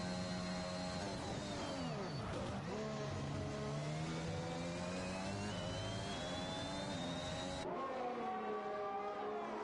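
Red Bull Formula 1 car engine on a flying lap in the F1 2021 video game at Italy, a steady high-pitched whining roar with shifting pitch, quieter at a distance, with a gear change near the end.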